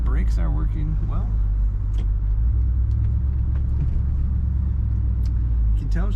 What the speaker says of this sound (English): Corners the way a big 1965 car should.